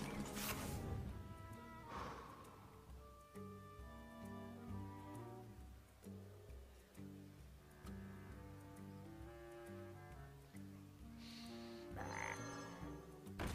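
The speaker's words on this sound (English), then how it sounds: "Oh gosh, a whole army of frogs." A swarm of frogs croaks in the Hearthstone card game, with repeated ribbiting calls over a layered tonal game soundtrack, punctuated by a few bright whooshing effect bursts near the start and end.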